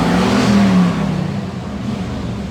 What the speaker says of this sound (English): Wow, that's American Muscle.